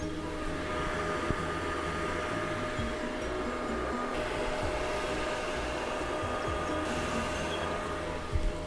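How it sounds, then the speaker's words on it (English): An LD002H resin 3D printer runs with a steady close fan hum, a continuous even drone carrying faint mechanical clicks. "So I would say the loudest part of the printer is that fan on the bottom."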